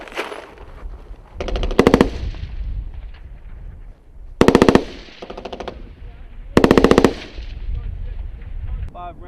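Loud rifle fire on a Marine weapons familiarization range: three rapid automatic bursts, each about half a second long, spaced a few seconds apart, with outdoor rumble between them.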